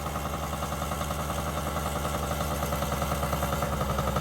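A Yamaha BW80 dirt bike engine idles at a steady, fast putter, close and continuous with no voices.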